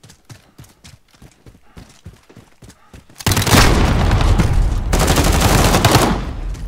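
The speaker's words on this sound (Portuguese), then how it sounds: "Mandou-me um tiro." Gunfire in Call of Duty: Modern Warfare (2019) multiplayer Headquarters on PC: rapid footsteps give way to a loud, sustained burst of automatic fire and booming shots that pauses briefly and then resumes.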